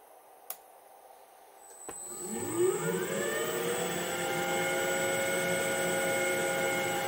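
A DIY CNC lathe spindle spins up to about 600 RPM with a rising mechanical whine that climbs and settles into a steady hum. A few sharp clicks come before it. Faint and close.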